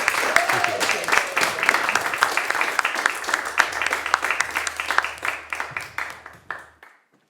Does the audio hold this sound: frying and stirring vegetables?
no